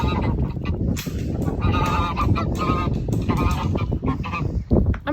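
Geese in a homestead poultry pen honking loudly and repeatedly at close range, with overlapping calls and scuffling.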